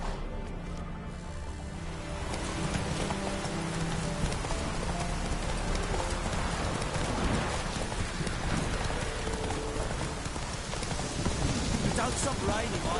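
Rain falls in a PS4 video game, a dense, continuous patter under game sounds that include clopping hooves and distant rumbles, with a voice talking over it.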